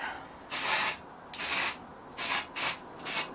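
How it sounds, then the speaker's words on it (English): Dry shampoo sprayed from an aerosol can onto hair at the roots: five short hissing bursts, close and fairly loud, with quiet gaps between them and no talking. "So I'm going to put a bit of dry shampoo, even though I only washed it yesterday, to help add some volume into the hair"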